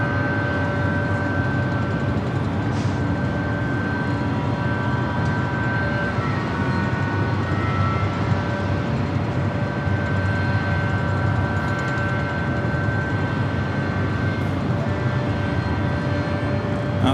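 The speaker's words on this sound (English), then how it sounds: "Got that Aeromexico Dreamliner number 2 for takeoff on the Southside." Aeromexico Boeing 787 Dreamliner taking off from the south side at LAX, a steady, loud jet engine roar that holds without a break, with a few faint tonal whines riding on top.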